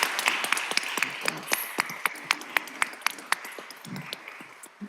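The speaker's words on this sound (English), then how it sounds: "y'all deserve a round of applause" Scattered applause at a city council meeting, a sparse run of individual claps spread across several seconds rather than a full ovation, heard in a large room.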